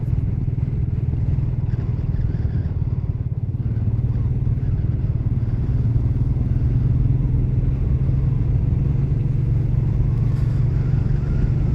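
A Royal Enfield Meteor 350 single-cylinder motorcycle cruises on a straight road, its engine thumping in a steady low drone from close by, mixed with wind noise.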